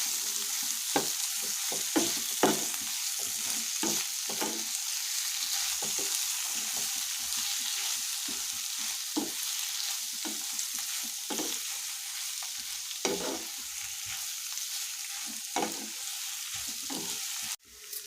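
Bitter gourd pieces are stirred into a tomato and onion masala in a hot pan. A steady bright sizzle runs throughout, broken by regular scraping strokes of the spoon, with no talking.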